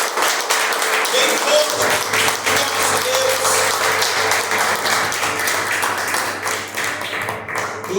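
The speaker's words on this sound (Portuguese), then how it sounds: "palmas para o nosso Deus." Congregation in a church service clapping loudly and steadily in praise, a dense continuous wash of applause with a voice speaking over it and faint music underneath.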